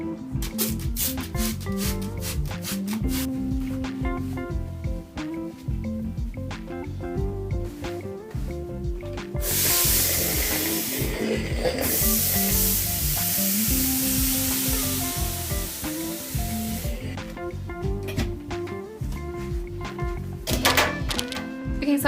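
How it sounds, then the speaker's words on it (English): Fabric sprayed with water and pressed with a clothes iron while sewing a ruched top, a long steady hiss of spray and steam under soft background music with intermittent thumps and handling noises. "I'm going to take it to the iron, spray it down with a bunch of water, lay it out flat, and iron it"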